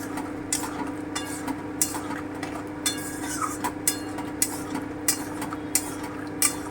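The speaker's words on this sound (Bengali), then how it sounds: "এবারে কিন্তু অনবরত এটাকে কন্টিনিউ নেড়ে যেতে হবে" A spoon stirs khurma sweets continuously through sugar syrup in a pot, giving soft scraping swirls with intermittent light clinks against the vessel. The sound is steady and close, with no talking.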